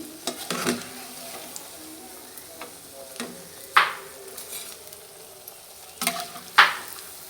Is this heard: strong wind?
no